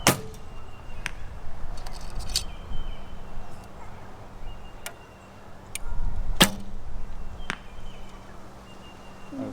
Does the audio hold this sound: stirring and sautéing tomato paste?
no